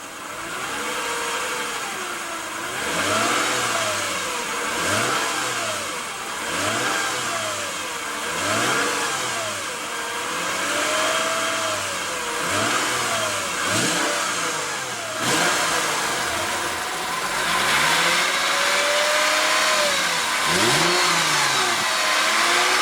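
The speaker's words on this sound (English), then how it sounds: "let's go ahead and hear how that V6 sounds" A 2014 Lexus GS350 with a 3.5 L V6 revs repeatedly, each blip rising and falling in pitch in a steady series of close, loud throttle bursts over a running idle, with no talking.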